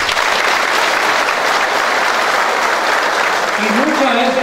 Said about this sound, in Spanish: Para él también un gran aplauso.